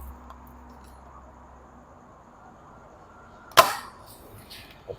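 A single sharp crack from a CYMA CM350 M870 spring airsoft shotgun fired at a 10 cm target 15 metres away, standing out once against quiet background noise, followed by a faint softer tick.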